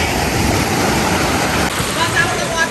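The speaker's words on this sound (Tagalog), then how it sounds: "Ang alon." Loud rushing water churns and surges up close, a constant roar of breaking waves with bursts of spray.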